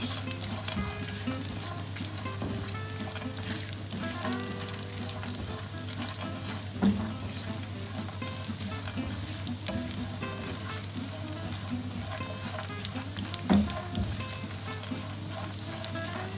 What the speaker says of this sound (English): I'm going to fry the nuts. Don't over fry them.